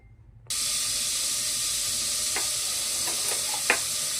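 Spices for a sambar tempering hit hot oil and burst into a loud, steady sizzle after a short quiet start. A few sharp pops and crackles rise near the end, with no talking.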